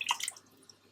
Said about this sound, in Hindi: 1 गिलास इसमें दूध जाएगा